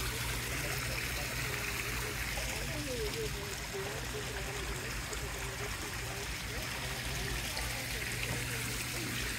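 A small stone waterfall on a newly built garden pond pours steadily into the water, a constant close rushing trickle with a low hum beneath it.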